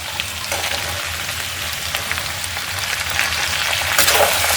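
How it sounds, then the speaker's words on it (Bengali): Peas tipped into a hot frying pan for an aloo-motor vegetable curry, giving a loud steady sizzle that swells near the end, close up with no talk. "তো এখন আমি মটরগুলো দিয়ে দেবো।"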